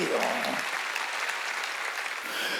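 Steady applause from a church congregation during a Wednesday service, a dense wash of clapping that holds throughout at an even, fairly loud level.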